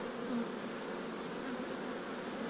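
An agitated, queenless honeybee hive buzzes in a dense, continuous drone, close and steady, with no talking.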